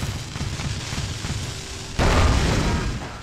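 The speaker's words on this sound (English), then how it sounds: "Frag grenade." A frag grenade goes off in Project Reality during a counter-insurgency battle in Fallujah: a sudden loud, broad blast that holds for over a second and then slowly fades, following a stretch of low rumbling battle noise.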